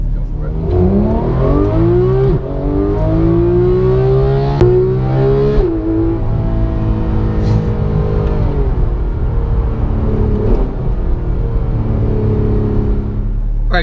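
A 2015 Porsche 911 GT3 engine revs hard from inside the car on a test drive, its loud, rising wail climbing through the gears with brief dips at shifts, continuous and dominant throughout, while a voice briefly speaks.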